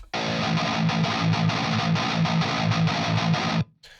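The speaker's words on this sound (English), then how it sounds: "you have a very bright sounding guitar" A bright, heavily distorted electric guitar through an amp plugin chugs in a steady rhythmic riff, loud and up front, then cuts off abruptly near the end.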